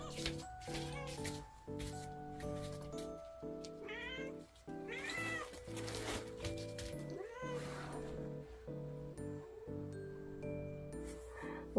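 A pet cat meows repeatedly at home, a series of close, clear, drawn-out cries with a light jingle in the background and no talking.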